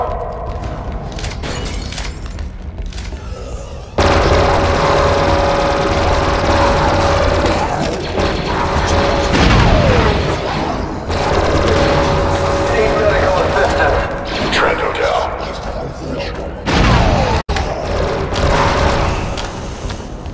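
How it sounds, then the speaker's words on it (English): SMG fire in Star Wars: Republic Commando sounds as loud, sustained combat noise over a low droning backdrop, with bursts and impacts running across the stretch and a voice speaking. "SMG. Interesting."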